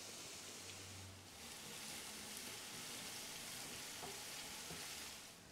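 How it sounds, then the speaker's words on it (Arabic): Garlic and coriander frying in ghee in a pan, a steady dense sizzle that runs unbroken throughout with a faint low hum early on and no voices. "بدنا نقلي الثوم مع الكزبرة"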